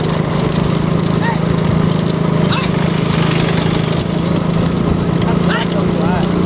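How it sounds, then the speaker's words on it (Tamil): Bull carts in a rekla bull race in Mithiravayal, 2019, come on with rapid hoof clatter and rumbling wheels under a loud constant crowd and engine-like drone, while people shout and talk nearby. "மாடு வருது."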